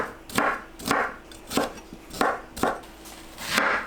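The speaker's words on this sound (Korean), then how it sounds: "빨간 파프리카 심지 빼고 대충 썰어주세요" A knife roughly chopping a red bell pepper on a cutting board, six or seven steady, evenly spaced thuds, close and clear with no talking.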